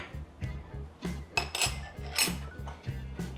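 A spoon clinks and scrapes against a bowl while mixing tomato paste with oil and honey, producing steady rhythmic taps and brighter clinks close by, with no talking.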